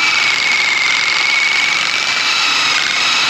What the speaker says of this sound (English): Little hub polishing device. It goes on the end of the gun.